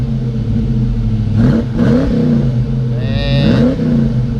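A Ford Fox-body Mustang with a worn-out transmission revs and lunges forward, its engine surging in uneven pulls over a steady idle drone, recorded close and loud.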